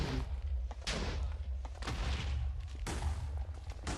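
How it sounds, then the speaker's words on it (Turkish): Pulse TNT exploding in stages in Minecraft, a run of deep muffled booms rolling one after another in uneven bursts, dense and continuous at low volume. "Pulse TNT diye bir şey kaldı. Ne oluyor? Aa kademe kademe patlıyor."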